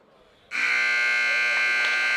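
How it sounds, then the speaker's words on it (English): A buzzer ends a round at a high school wrestling match, a loud, steady electronic tone that begins abruptly after a quiet moment and holds unbroken to the end. "Maybe saved by the buzzer."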